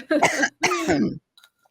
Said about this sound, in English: I'm sorry, I keep clearing my throat.